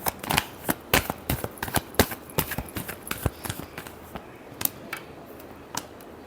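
Tarot cards being shuffled by hand, with a quick run of crisp riffling snaps and slaps that come in a loose, uneven rhythm, close and fairly loud, and gradually thin out.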